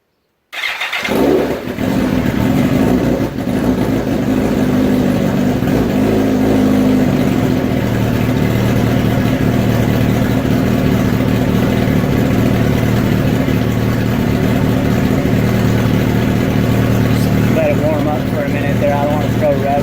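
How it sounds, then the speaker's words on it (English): 2006 Suzuki GSX-R 1000 sportbike with a factory titanium header starting up cold, catching quickly and then idling at a loud, steady, close rumble for the rest of the stretch. "I'll fire this thing up for you"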